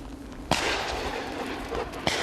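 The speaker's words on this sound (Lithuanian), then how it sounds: "šūvių daug" Two sharp distant hunters' gunshots, about a second and a half apart, each cracking out of a faint, steady outdoor background and trailing off in a short echo.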